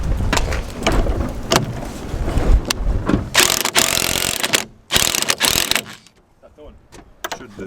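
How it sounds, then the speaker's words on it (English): An impact gun on a 21mm socket rattles in sharp, loud bursts against a car's suspension. The hammering is broken by brief pauses, clanks and handling noises, and the sound drops away near the end. "then we're going to get the impact gun"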